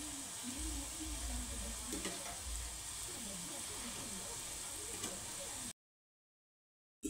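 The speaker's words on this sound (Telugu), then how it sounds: "కొద్దిగా రెడ్ కలర్ వచ్చిన దాకా వేయించుకుందాం." Wheat flour gavvalu fry in hot oil over low heat, a steady close sizzle and bubbling hiss lasting several seconds, with a voice talking faintly underneath before the sound cuts off.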